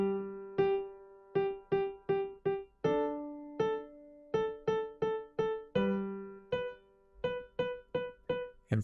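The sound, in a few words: piano playing two quarter notes and four eighth notes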